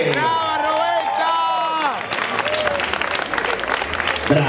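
Audience applause after a dance company's show, beginning as a musical tone fades out and then swelling into steady clapping and cheering from a crowd, with some voices mixed in.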